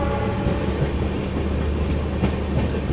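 The 12566 New Delhi–Darbhanga Bihar Sampark Kranti Express runs on rails while overtaking, a loud, steady rumble with rhythmic clickety-clack from the wheels, heard close from inside.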